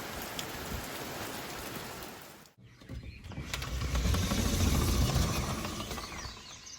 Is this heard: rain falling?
yes